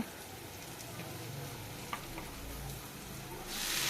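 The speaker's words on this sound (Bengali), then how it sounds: "আমি নাড়াচাড়া করে নিচ্ছি রসুন আর লঙ্কা" Garlic and green chilli fry and get stirred in a pan, a soft steady sizzle with faint scraping clicks that swells louder toward the end, while cut greens for a drumstick-leaf dish wait nearby.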